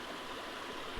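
Steady rushing and gurgling of water pouring into an aquarium filter tank with a pump running, a continuous close splashing flow.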